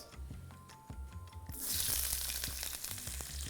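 Chopped onions dropped into a hot pan for ghugni, a sudden loud hissing sizzle bursting in midway after quieter kitchen clatter and knocks, then crackling steadily.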